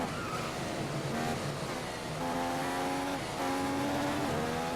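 An F1 2015 race car in a video game accelerating out of a corner at the British GP, the engine note climbing through rising revs with gear shifts, steady and loud.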